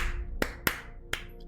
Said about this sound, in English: it's a little bit difficult to clap your hands while pressing buttons